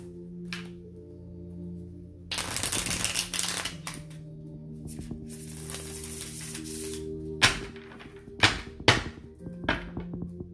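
Tarot cards are shuffled in several bursts of crisp riffling, followed by a few sharp taps as the deck is squared, close and fairly quiet.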